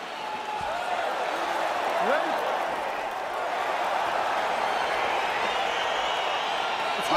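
A crowd in EA Sports UFC 4 roars steadily as a fight gets underway, a dense, continuous wash of cheering that holds at an even level throughout.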